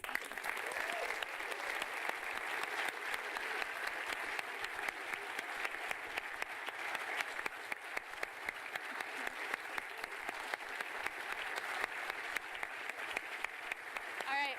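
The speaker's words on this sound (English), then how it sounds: "So one more round of applause, please." A conference audience gives sustained applause at the closing session, an even wash of many hands clapping at a moderate distance with no break.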